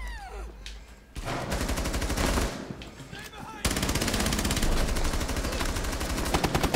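Automatic gunfire in the shooter game Rainbow Six Siege, sustained loud bursts of rapid shots with a brief lull, then heavy continuous firing, with players talking over it.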